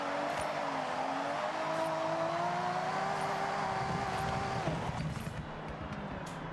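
A car engine in Forza Horizon rises and falls in pitch as the throttle is worked through a drift, a loud, continuous revving that drops off sharply near the end, then rumbles on lower.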